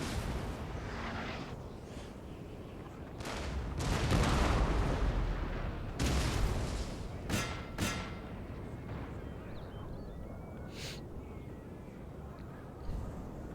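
Cannons fire during a Waterloo battle in Napoleon: Total War, with several heavy booms at irregular intervals, some distant and some sharper and nearer, over a low rumbling battlefield background.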